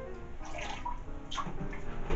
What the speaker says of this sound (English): It actually says you're supposed to swish it around a little bit